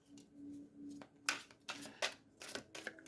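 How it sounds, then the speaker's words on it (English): A deck of tarot cards is shuffled close up in a quiet room, giving a string of short, crisp riffling and slapping bursts against a faint low hum. "I'm going to shuffle that back in."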